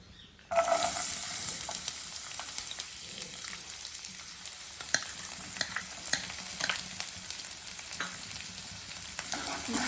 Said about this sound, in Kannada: ಬೆಳ್ಳುಳ್ಳಿಯನ್ನು ಫ್ರೈ ಮಾಡುತ್ತಲಿರಬೇಕು.